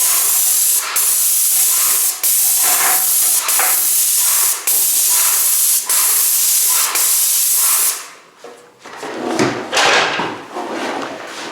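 Airless paint sprayer laying the final coat on a house exterior, fitted with a used 311 tip: a steady, loud hiss broken by brief pauses as the trigger is released, then stopping near the end, leaving quieter, uneven spraying.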